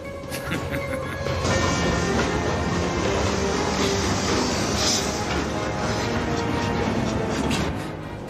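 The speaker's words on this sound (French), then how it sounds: "C'est le train magique, Timothée." A train, the so-called magic train, rolls along with a loud, steady rumble and faint rhythmic clatter that swells in and fades out near the end.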